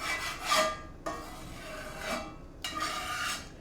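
A utensil scrapes egg roll filling out of a bowl in a kitchen, in a few close, rasping strokes separated by short pauses, with no talking.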